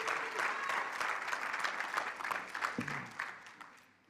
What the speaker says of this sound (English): I'm glad that you guys are clapping your hands and preaching